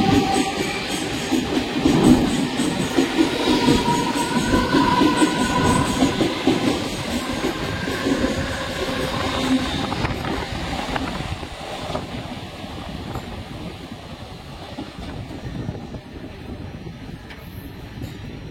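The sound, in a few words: Mumbai local train running at railway station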